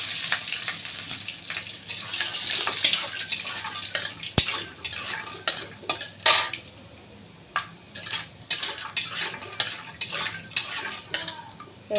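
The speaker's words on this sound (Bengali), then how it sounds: "সাদা তেল দিয়ে দিয়েছি কড়াইতে সাদা তেলের মধ্যে এই বাদামটা একটু ভেজে নেব" Peanuts fry in white oil in a wok while a utensil stirs them, with close metallic clinks and scrapes over a soft, steady frying hiss.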